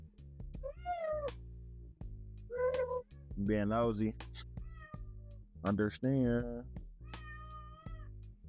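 A cat meows loudly and repeatedly indoors, long drawn-out yowling calls alternating with brief pauses, while a person speaks over some of them.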